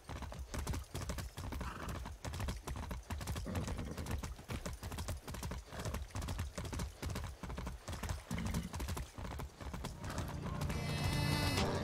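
Horse hooves clip-clop steadily and loudly through most of the stretch in the Far Cry 6 video game, a regular trotting rhythm with a rising background swell near the end.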